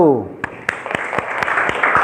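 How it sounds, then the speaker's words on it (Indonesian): Scattered applause from a small class group after a student presentation, a handful of sharp separate claps following a brief voice at the start and building into a light patter. "kasih tepuk tangan lagi untuk kelompok 1"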